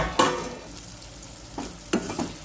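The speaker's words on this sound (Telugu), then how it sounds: "ఆనియన్స్ ఫ్రై అయిన తర్వాత అల్లం వెల్లుల్లి పేస్ట్ వేసేద్దాం" Ginger garlic paste frying with onions in a pan, a spoon stirring in short scraping strokes over a soft sizzle, with two or three distinct stirs close by.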